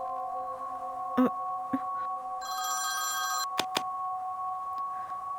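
A telephone rings late at night, a sustained electronic tone broken by a few sharp clicks and a brief brighter burst of higher tones, close and clear without talk.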